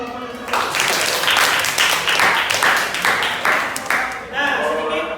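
A classroom group in Indonesia receives a burst of hand clapping from students, dense and loud, rising and falling in waves for several seconds.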